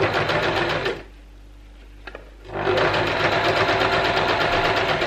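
A sewing machine stitches down a face mask seam in a fast, loud mechanical whirr, pauses briefly with a couple of small clicks, then resumes running steadily.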